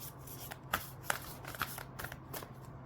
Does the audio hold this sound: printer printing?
no